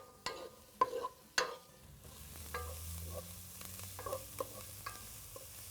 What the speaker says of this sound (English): I want to cook this for about 5 minutes just till the onions start to caramelize around the edges